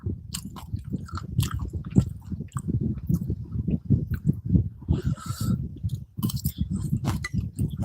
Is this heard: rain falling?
no